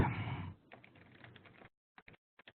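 Fingers type on a computer keyboard in short bursts of close key clicks, with brief pauses and a final few scattered taps, and no speech over them.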